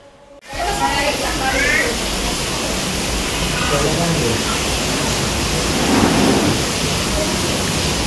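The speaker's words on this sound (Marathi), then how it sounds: "आता थोडं पाऊस पडतो त्यामुळे थांबलो आहे मी" Heavy monsoon rain pouring steadily in Mumbai as a dense roar, with low rumbling thunder building midway; loud and close after a brief quiet start.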